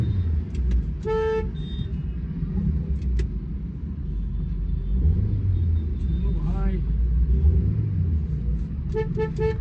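Road traffic rumbles steadily in a jam as car horns toot repeatedly, short honks and a longer blast, some close and some farther off, over continuous engine noise.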